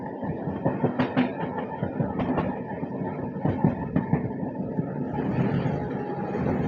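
Train running along the Masagram–Bankura rail route through a sal forest, a steady rumble with repeated clickety-clack wheel beats over the rail joints, close and loud throughout.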